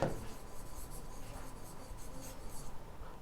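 A pen writes a journal entry on paper during an accounting lesson, giving a steady, continuous scratching and rubbing that lasts throughout, close and fairly quiet with no voice over it.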